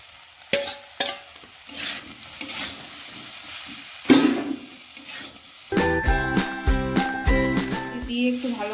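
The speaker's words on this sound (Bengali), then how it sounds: "এবার আমি ভাজা চিংড়ি মাছগুলো দিয়ে দেবো" Fried prawns go into a pan of young jackfruit curry and are stirred. Quiet sizzling with a few scrapes comes first, then a sharp burst of hissing and rhythmic clattering stirring.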